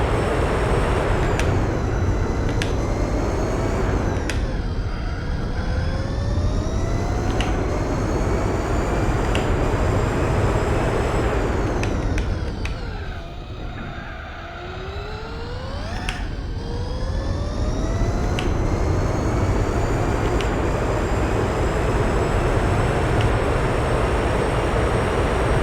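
A car in Gran Turismo 4 brakes heavily while racing, its engine note sweeping down and back up as it slows for a corner and then accelerates again. The whine is continuous and loud, with a marked dip in the middle.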